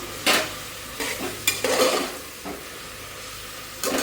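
Salt and turmeric being sautéed in a hot pan give a steady sizzle, with several louder scraping stirs close by and brief pauses between them, and no voices.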